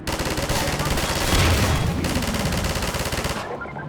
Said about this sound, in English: here's a safe place to test out the turrets